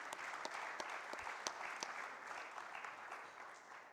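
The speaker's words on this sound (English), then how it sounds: "Huge round of applause for Captain Devu" Audience applause for a panelist at a maritime conference student session, a steady crowd clapping throughout, fairly faint and even, with no talk.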